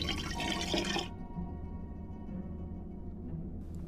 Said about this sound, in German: Ich fülle gleich etwas Wasser rein.